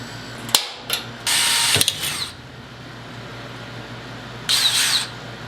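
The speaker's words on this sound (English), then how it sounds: "we're going to be drilling through the top so we can rivet it into the rails" Drilling through the top of an aluminum wing on an S10 truck for rivets: a sharp tap, then two loud bursts of high-speed drill whine with a quiet pause between them over a low background hum.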